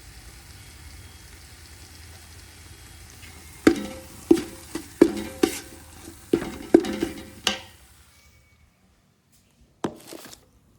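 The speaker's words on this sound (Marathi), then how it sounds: "त्याच्यानंतर त्याच्यामध्ये ॲड करू काळा दळलेला कांदा. हे व्यवस्थित परतून घेऊ." Ground black onion masala stirred in hot oil in a pan: a steady faint sizzle, then a run of sharp spoon scrapes and knocks against the pan, a short pause, and a couple more knocks.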